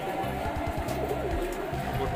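A local pigeon coos in low, repeated hooting pulses close by, with faint chatter and background noise around it.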